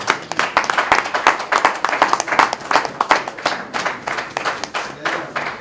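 An audience applauds the senator at a campaign launch event, with clearly separated loud claps in a fast, uneven rhythm throughout and a voice or crowd noise mixed in underneath.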